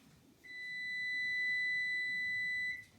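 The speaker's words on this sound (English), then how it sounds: "And there's the beep." An oven timer signals during the baking of an Italian almond chocolate cake, giving a single long, steady electronic beep of about two seconds, clear and alone.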